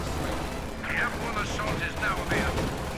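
An incendiary artillery barrage in a real-time strategy game lands as a rapid series of crackling blasts and bursts, mixed with busy battle noise and a voice talking over it.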